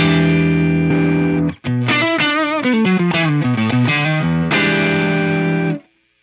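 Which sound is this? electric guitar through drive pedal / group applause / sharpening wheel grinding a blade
electric guitar through drive pedal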